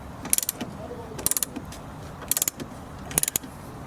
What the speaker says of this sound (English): I'm using a ratchet because it's the only thing I've got here that can do it